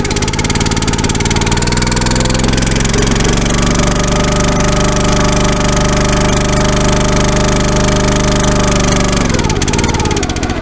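A log splitter's small engine, just fixed with a new recoil rope, runs loud and close, with a steady knocking chug whose pitch shifts slightly partway through before it cuts off near the end.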